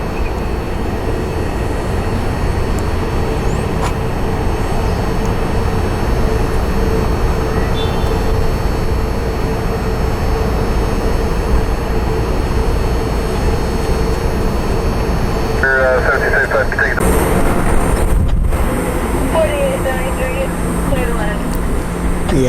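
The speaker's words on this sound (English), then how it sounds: "JetBlue is taking off now" A JetBlue jet airliner takes off from the runway with a loud, sustained engine roar lasting the whole stretch, while radio chatter and voices talk over it.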